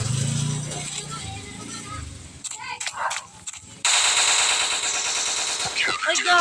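Gunfire in the shooter game Special Forces: quick rattling bursts of automatic fire, first faint and scattered, then a sustained loud stretch near the end, with brief voice-chat sounds mixed in.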